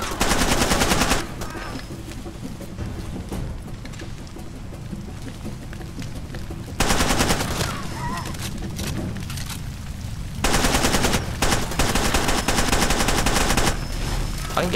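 Bursts of automatic gunfire from the Far Cry 2 shooter game crackle loud and dense, with heavy volleys at the start, middle and end and sustained rattling fire between them.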